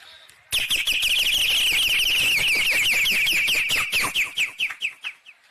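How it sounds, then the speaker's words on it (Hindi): Rural Jharkhand birdsong: a loud, rapid trilling bird call starts abruptly and continues steadily for several seconds, then breaks into separate fading chirps. "कहीं से चिड़िया आवाज दे रही है।"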